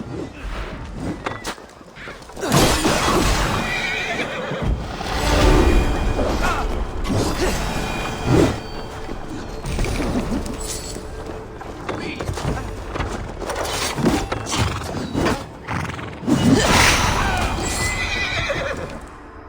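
Horses neigh and whinny repeatedly in the Assassin's Creed Valhalla siege of Paris, while hooves clop and mechanical clatter rises and falls in loud bursts alongside intermittent speech.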